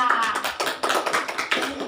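A sixth-grade class claps for a group of classmates during a lesson, a quick run of brisk, overlapping handclaps from many children close by.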